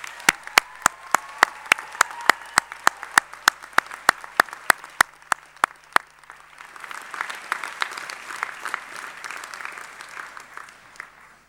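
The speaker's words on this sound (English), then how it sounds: "Graduands and lecturers, a round of applause for your families and friends." Audience at a University of Sussex graduation ceremony applauds in a large hall, opening with a steady run of sharp, evenly spaced claps that give way to a denser, softer wash of crowd clapping that fades out.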